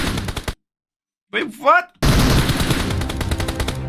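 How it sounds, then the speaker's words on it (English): Video game gunfire in dense bursts before and after a short silence, with a surprised voice reacting in the gap between the volleys. "You're shooting at the wall!"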